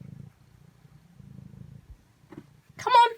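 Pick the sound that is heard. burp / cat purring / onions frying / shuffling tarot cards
cat purring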